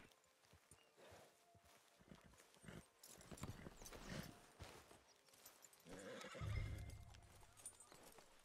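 Horse whinnying and hooves clip-clopping in the Red Dead Redemption 2 western video game, with a loud neigh near the end over steady hoofbeats and a voice speaking briefly.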